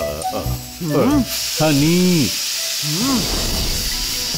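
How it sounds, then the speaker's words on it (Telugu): A cartoon pressure cooker hisses and whistles with steam in several warbling, rising and falling bursts, loud and close, over a background hiss. "ఆఫ్ చేసిన తర్వాత కూడా కుక్కర్ నుంచి విసులు వస్తుంది."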